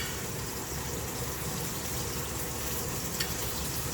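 Flank steak searing in a pan with olive oil and butter, a loud, unbroken hiss of frying fat heard up close, with a single faint tap near the end.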